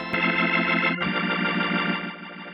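A sustained Hammond-style organ chord from a Viscount Legend pulses with a rapid, rhythmic swirling tremolo from a Neo Mini Vent II rotary speaker simulator that speeds up after a brief break, steady and unaccompanied.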